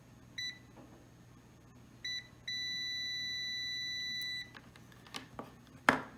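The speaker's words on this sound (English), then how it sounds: "we should hear a beep." A multimeter in continuity mode beeps as its probes touch: two short beeps, then one sustained tone of about two seconds, followed by faint handling clicks and a sharp tap.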